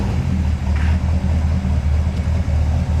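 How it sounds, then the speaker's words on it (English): A Corvette C3 with a 454 big-block V8 idles and runs, giving a loud, steady, deep rumble that fills the whole stretch with no pauses. "As you can hear, that engine is really sweet."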